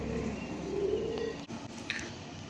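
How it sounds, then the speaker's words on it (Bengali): Teddy pigeons give a soft, low coo in a short burst at close range, with faint background hiss and no talking. "ভাইয়ের সাকিবুল লাইনের দুটি টেডি কবুতর"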